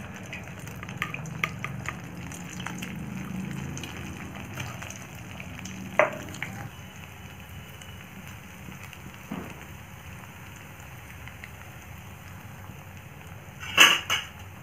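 Malpua batter, spooned into hot oil over a low-to-medium gas flame, fries with a steady soft sizzle and crackle, broken by a few light clicks and a sharp metallic clatter near the end.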